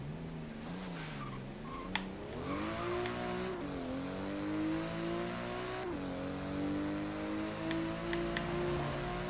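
A car engine in the racing game Forza Horizon 3 hums with a restrained, smooth tone, rising and falling in pitch as the car accelerates and shifts, steady and continuous throughout.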